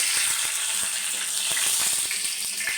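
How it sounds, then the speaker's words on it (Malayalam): Two dried red chillies sizzle in hot oil with popped mustard seeds while an egg roast is cooked, a bright, steady frying hiss marked by small crackles and pops close to the pan. "നമുക്ക് അതിനകത്ത് ഈ 2 വറ്റൽമുളക് ഇടാം."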